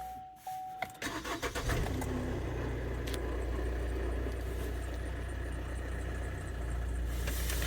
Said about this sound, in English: It's idling lovely.